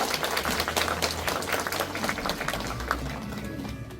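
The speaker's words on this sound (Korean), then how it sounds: "뜨거운 환영의 박수 부탁드리겠습니다" Steady applause from a crowd at a senior welfare centre evaluation meeting in Daegu, a dense wash of clapping that holds for a few seconds and then eases slightly.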